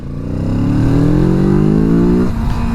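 A motorcycle engine pulls hard on full throttle, its note climbing steadily and loud and close for a couple of seconds before easing off, with no voices.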